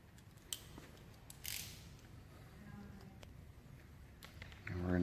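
Excess vinyl wrap film is trimmed off a car's chrome trim: a few quick, close snips and cuts, with a soft crinkle of film and a louder rustle at the end, over low background noise.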